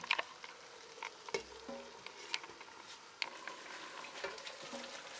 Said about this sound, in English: So cover it and let it simmer for about 3 to 5 minutes.